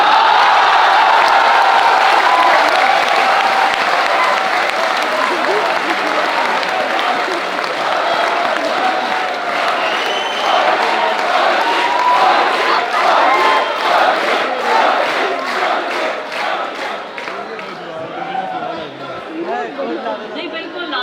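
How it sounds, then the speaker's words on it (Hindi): An audience at a poetry recital (kavi sammelan) at NIT Jalandhar fills the space with loud, continuous crowd noise and cheering, and rhythmic clapping builds toward the end. "इस बात पर डायरेक्टर सर ने भी तालियां बजाई।"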